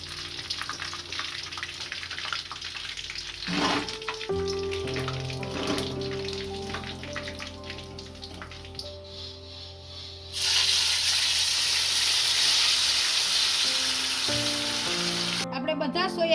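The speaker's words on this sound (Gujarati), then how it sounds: "આપણે બધા સોયાને તળી લીધા છે." Soya chunks fry in hot oil in a home kitchen pan, a continuous loud sizzle with bubbling and occasional clinks and stirring, growing brighter and fiercer partway through.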